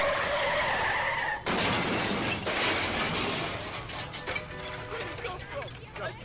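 Car skidding and crashing sound effect: a loud burst of broad noise starts abruptly about a second and a half in and carries on with scraping, rattling debris to the end, with no talk.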